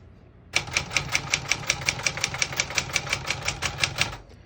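A 1968 Remington 666 portable typewriter being typed on, about twenty crisp, evenly paced key strikes in a quick steady rhythm, close and clear, ending with a short pause.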